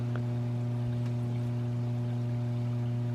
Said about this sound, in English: there is like a little creek running along right down in here.